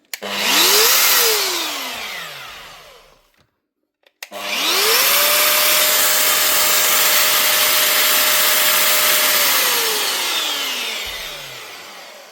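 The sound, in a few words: Metabo MFE 40 wall chaser motor test run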